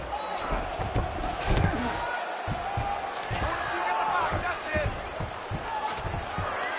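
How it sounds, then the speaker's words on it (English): Arena crowd at a UFC title fight night roaring steadily as two fighters rise from a grappling exchange on the mat, a dense continuous cheer with scattered thuds and shouts mixed in throughout. "big pop from the crowd as they get back to their feet after a pretty scintillating grappling battle there on the ground"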